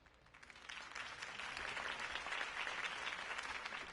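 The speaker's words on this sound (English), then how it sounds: "could have heard that applause" Crowd applause after a campaign speech in the Batman Telltale video game, a steady patter of many hands that swells and holds, fairly faint and with no talk over it.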